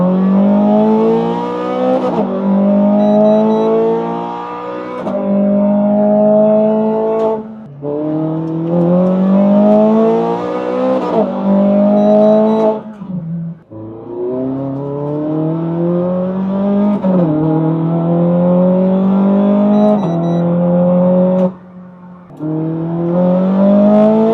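A Ferrari 430 Scuderia engine pulls hard through the gears, each rising wail cut by a quick shift before it climbs again. The engine stays loud and close from inside the car as it is driven and accelerated repeatedly.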